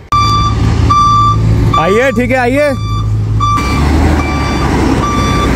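A bus backing in through a gate sounds its reversing alarm in loud, evenly spaced beeps over a low engine rumble, while a man calls out instructions in between.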